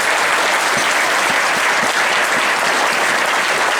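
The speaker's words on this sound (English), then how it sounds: "let's give her a round of applause" Dense, steady applause fills the room from an audience at the 2015 Cauliflower Alley Club gathering, close and loud throughout with no talking over it.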